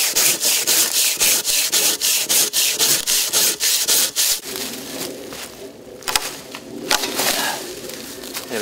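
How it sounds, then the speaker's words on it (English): A Silky Drifta pruning saw cuts a log on the ground in rapid, even back-and-forth strokes, a close, raspy rhythm for about four seconds. Slower, lighter scraping follows. "You can see this when you're cutting a log on the ground"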